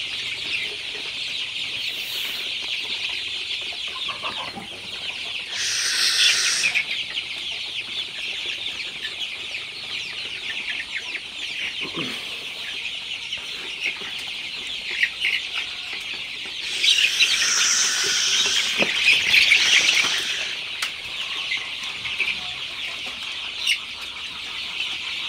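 Sonali super hybrid chicks on their 26th day cluck and cheep steadily throughout, with louder bursts of calling in a few spots, a constant busy flock sound with no talking.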